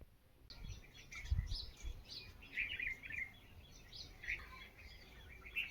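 Birds chirping in a village on a sunny morning, with scattered bright tweets and calls at modest distance over quiet rural background, faint overall with a few low thumps.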